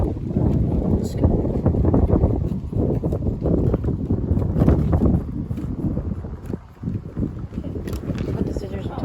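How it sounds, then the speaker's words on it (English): Strong gusty wind buffets the microphone outdoors, a loud continuous rumble that rises and falls throughout. "It's getting kind of windy."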